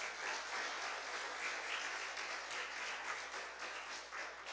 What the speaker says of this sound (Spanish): ¿Y por qué no le da un aplauso al Señor de gratitud?